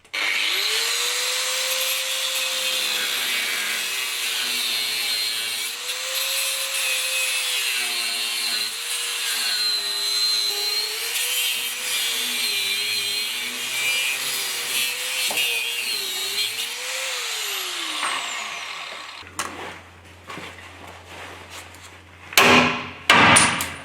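An angle grinder cuts through a corroded spring pin on a camper car transporter axle, a loud sustained whining screech with wavering pitch for about eighteen seconds, then winds down, followed by a few metallic clanks.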